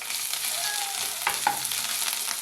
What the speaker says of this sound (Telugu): పచ్చివాసన పోయేంత వరకు కూడా వేయించాలి అల్లం వెల్లుల్లి బాగా ఫ్రై అయ్యింది